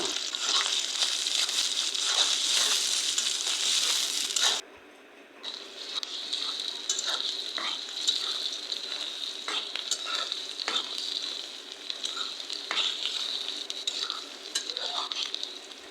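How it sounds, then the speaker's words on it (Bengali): Steady, loud sizzling of chopped onions frying in hot oil until browned, for a beef dish, with occasional stirring scrapes and clinks; a brief lull near the start, no talking. "তেলটা গরম হয়েছে তারপরে পেঁয়াজ কুচিগুলো দিয়ে দিছি"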